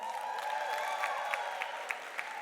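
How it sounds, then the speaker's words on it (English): A room full of forum attendees claps for a South African Medical Research Council panelist, steady applause with scattered sharper claps and a faint murmur of the crowd. "give her a round of applause"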